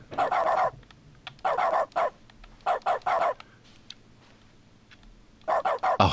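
Dog barking in The Stanley Parable Ultra Deluxe, loud bark bursts in quick clusters of two to four, separated by quiet pauses, with no talk over them.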